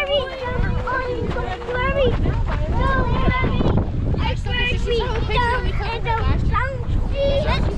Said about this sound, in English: So, goodness, it's windy.